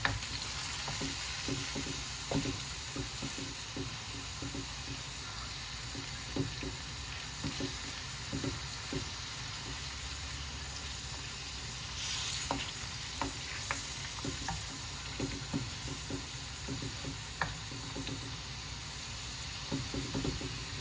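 Lamb pieces for charsi karahi fry in oil, giving a steady, close sizzle throughout with occasional stirring scrapes and knocks against the pan.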